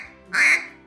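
A single sharp, bright quack on a duck call blown with a faster burst of air and the tongue raised slightly, close and loud, rising quickly and fading within a fraction of a second.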